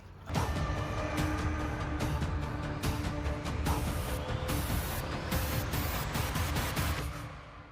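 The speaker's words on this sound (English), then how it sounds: "The fun part of getting in under here and getting these bolts out." Bolts being removed from under the nose of a truck, a steady mechanical whirring and creaking like a power tool working close by, continuous for several seconds with no talk.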